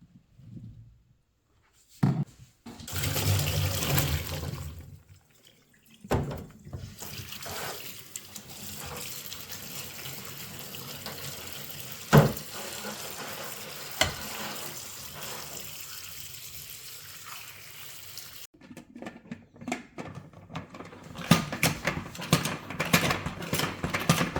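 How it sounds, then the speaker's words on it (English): Freshly washed Rainier and Bing cherries whirl in a salad spinner, giving a steady mechanical rumble and rushing water sound with brief pauses, plus a final louder burst of spinning. "then we put them in the salad spinner and try to get the remaining gunk off of them"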